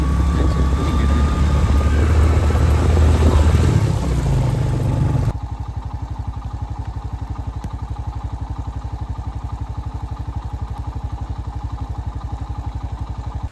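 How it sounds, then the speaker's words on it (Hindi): A motorcycle engine roars loudly at first while riding on a road, then settles into a steady, rhythmic chugging idle that continues throughout. "मोटरसाइकिल का शोर आ रहा है"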